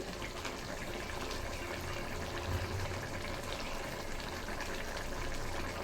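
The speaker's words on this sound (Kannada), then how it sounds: "ನೋಡಿ ಚೆನ್ನಾಗಿ ಕುದೀತಾ ಇದೆ" Curd sambar boiling steadily in a pot, a continuous bubbling, gushing wash of liquid noise close by and at an even level throughout.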